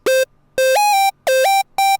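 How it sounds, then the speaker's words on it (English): A bright, buzzy square-wave synth plays four short staccato notes in a quick rhythmic phrase, each note sliding up in pitch partway through, clean and loud with silence between hits. "this sound is just a square wave with some modulation on it."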